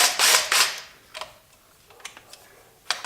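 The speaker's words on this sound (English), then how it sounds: "If you don't own one of these impact guns, you should probably get one because it makes life so easy." Handheld impact gun loosening spark plugs on an engine, with two loud short bursts of rapid hammering up close, followed by scattered lighter clicks and a final sharp burst.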